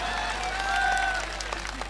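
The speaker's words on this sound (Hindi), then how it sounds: "बजाओ ताली, बजाओ बजाओ" An audience at a comic poetry show applauds, a steady wash of clapping and crowd noise lasting a couple of seconds with no speech over it.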